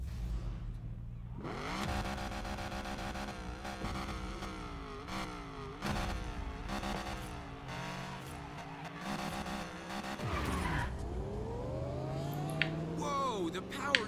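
Supercar racing in Need for Speed Payback, its engine revving and shifting through gears with tire squeals and skids, loud and continuous, as voices talk over it.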